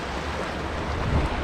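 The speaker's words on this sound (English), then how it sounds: "listening to the river as the river passes by" A river rushing past on a gloomy morning, heard as a loud, steady broadband roar of moving water with some wind, with no voices.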